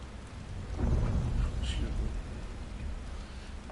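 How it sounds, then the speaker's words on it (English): Steady rainfall in the Final Fantasy XVI video game, a soft, continuous hiss with a low rumble swelling briefly like distant thunder, with no talk over it. "Is it raining?"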